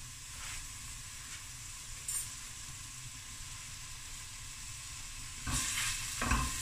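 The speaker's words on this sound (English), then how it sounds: "So I'm going to add half an onion finely chopped." Half a finely chopped onion and a minced garlic clove frying in a little butter, a steady close sizzle with a couple of brief louder bursts near the end.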